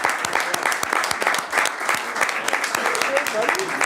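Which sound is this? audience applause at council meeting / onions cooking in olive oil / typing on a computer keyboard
audience applause at council meeting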